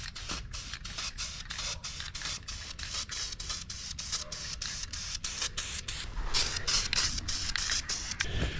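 A degreased car part is spray painted during transmission cooler line work, giving a steady, close broadband hiss with regular faint clicks that grows slightly louder toward the end.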